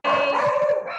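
Dogs bark at home, a single brief burst of close, loud barking and yipping that cuts off after about a second, with no talk.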